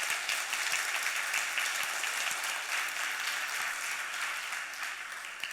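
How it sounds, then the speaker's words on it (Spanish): A church congregation claps steadily in a dense, even burst of applause lasting several seconds, moderately loud and without talk over it. "Y aquí aplaude al Señor si quieres aplaudirlo"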